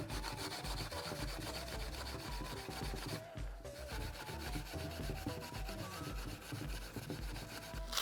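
A green abrasive pad scrubs corrosion off a metal part by hand, a dense, continuous rubbing and scouring that stays loud and steady throughout, with only a brief dip in the middle.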